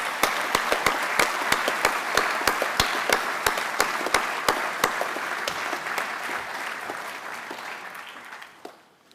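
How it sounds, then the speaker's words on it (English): Applause from a school Foundation Day ceremony audience, with steady crowd clapping and a few sharp, louder claps standing out in a regular pulse, holding for most of the stretch before thinning and fading near the end. "I think a round of applause is due."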